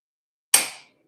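A hammer strikes a metal punch set on a chain once, a single sharp bright metallic crack that rings briefly and fades, close and alone.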